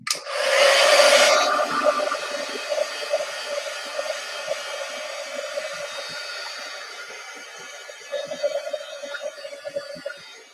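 A dryer drying a journal page starts with a loud blast of blowing air, then settles into a steady whirring hum that carries on, close and fairly constant.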